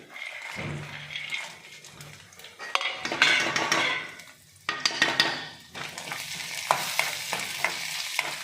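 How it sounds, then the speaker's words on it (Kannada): Cashews and raisins fry in ghee in a pan, with a soft sizzle beneath frequent clattering as a spoon stirs and scrapes against the metal. No one speaks. "ಈಗ ಎಲ್ಲ ತುಪ್ಪದಲ್ಲಿ ಚೆನ್ನಾಗಿ ಫ್ರೈ ಆಗಿದೆ"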